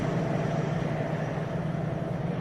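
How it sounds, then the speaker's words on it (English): A workman's drill running next door gives off a steady, unbroken droning noise that fills the whole stretch at a constant level, with no pauses or voices. "I think there's a workman next door with a drill."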